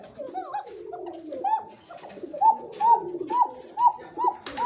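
Koka pigeons from Dubai and Africa cooing close up, with a series of repeated rolling coos growing more regular toward the end, plus faint rustling in the background.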